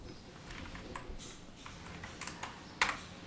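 Someone types on a computer keyboard while entering text in a design app, producing light, quick key clicks in irregular bursts, fairly close and quiet.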